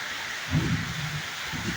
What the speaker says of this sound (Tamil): சரியான மழைங்க, சரியான மழைங்க.